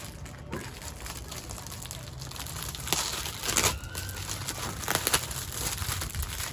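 Plastic bag wrap from a GoPro Hero8 Black accessories kit crinkling and rustling in irregular bursts over a low steady background hum, fairly close, with louder crackles toward the middle and end.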